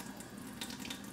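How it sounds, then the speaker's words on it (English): A water tap runs steadily into a sink, a soft continuous rush heard close up with no voices over it. "Turn the water off."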